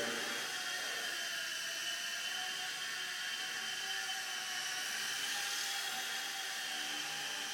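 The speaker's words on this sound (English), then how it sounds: "you need to get used to the heli to be able to fly it like that" A Solo Pro V2 RC helicopter flies indoors, its small rotor and motor producing a steady, high-pitched whirring buzz that holds constant and fairly close for the whole stretch.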